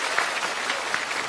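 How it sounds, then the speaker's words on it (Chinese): A studio audience at a stand-up comedy contest claps in dense, continuous applause, loud and close, with no talk over it. "掌声再次给罗仔"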